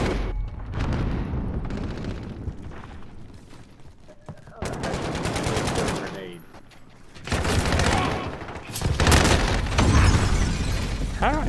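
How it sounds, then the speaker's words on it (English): Battle audio from Call of Duty Modern Warfare: a loud grenade blast landing among dense rapid gunfire, with more bursts and booms and a player's voice over the fighting. "Grenade."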